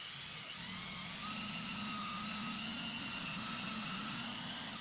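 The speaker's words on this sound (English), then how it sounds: "I'm going to use an electric drill with a 20 gauge bore brush and a little bit of bore solvent to thoroughly clean that" An electric drill spins a 20 gauge bore brush inside a rifle chamber during cleaning of a MAS-49/56 rifle, producing a steady, fairly faint motor whir with a scrubbing hum that runs unbroken throughout.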